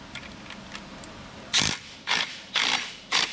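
A ratchet tightens a 9/16 nut while fitting a CVF Racing serpentine system onto a 383 small block Chevy crate engine: faint light ticks, then four loud, close bursts of rapid ratcheting at an even pace.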